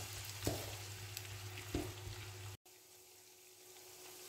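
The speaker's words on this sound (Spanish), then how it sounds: "Lo iré pochando a fuego medio." Onion and garlic with a pinch of salt sauté in a pan over medium heat, giving a soft, steady sizzle with a couple of stirring knocks before a brief cut and a quieter continued fry.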